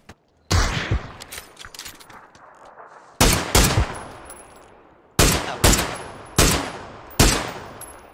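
Video game gunfire rings out from across a bridge in several sharp, loud bursts separated by pauses, each burst a quick volley of shots with decaying echoes behind it.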